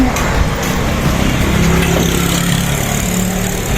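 A Kawasaki KLX trail motorcycle engine runs steadily and close by on a hillside outing, a continuous low mechanical drone throughout with no talk over it.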